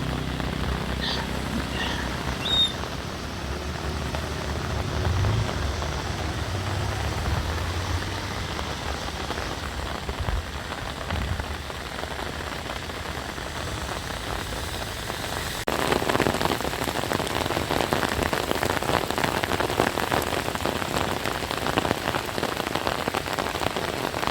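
Steady heavy monsoon rain hisses across the whole recording with a broad rushing wash of a fast-flowing river underneath, growing louder and denser partway through.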